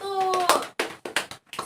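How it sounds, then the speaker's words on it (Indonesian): A classroom of young children claps briefly for a group, with a few sharp, uneven hand claps following a short stretch of voices. "Tepuk tangan buat kelompok 1"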